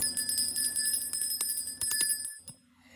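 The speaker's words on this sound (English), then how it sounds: "We're gonna do the bell today in this one." A small bell rings repeatedly in a quick series of strikes, each leaving a bright sustained tone. It is fairly soft, then stops with one last faint strike.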